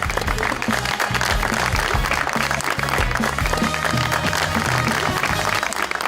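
A studio audience claps to welcome a guest, a full, loud and continuous applause with a music bed underneath throughout.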